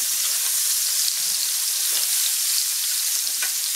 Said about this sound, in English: Then I just put in my green peppers and my red onion. Now we're going to let this saute about a minute.